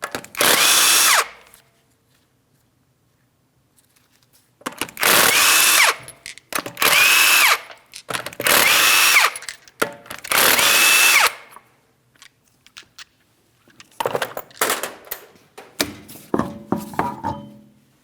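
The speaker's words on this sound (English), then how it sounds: "you're going to remove all 5 of your 19mm lug nuts and then the wheel." Impact gun or power drill zipping off five 19mm lug nuts from a 2016-2025 Chevrolet Malibu wheel, heard as a series of loud, close whirring bursts separated by pauses, with softer clatter of nuts and handling afterward.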